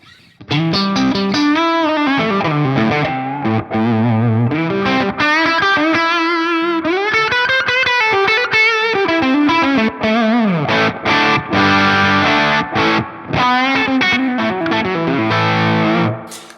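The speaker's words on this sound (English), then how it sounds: "More like a kind of old school distortion sound, you know, rhythm guitar sound" Heavily distorted electric guitar chords through a Laney amp with boosted gain, old-school distortion rhythm sound, strummed in a steady rhythm, loud and continuous with brief gaps between phrases.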